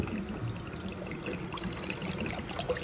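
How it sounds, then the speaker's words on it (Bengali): Water poured into a pan to start a sugar syrup, a steady close trickling and splashing stream running throughout without any talk. "তার জন্য প্রথমে জল দিয়ে দিচ্ছি"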